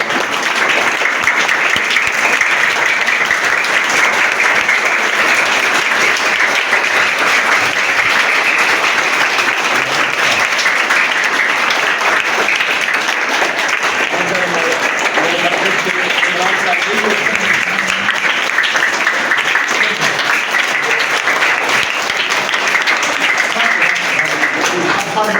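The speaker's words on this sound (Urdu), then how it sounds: "بچوں نے والہانہ طور پر تالیاں بجا کر ان کو خراج تحسین پیش کیا" Schoolchildren clap at the inauguration of a solar power system at a government boys' elementary school in Kamra, a loud, continuous rattle of applause lasting throughout, with voices mixed in.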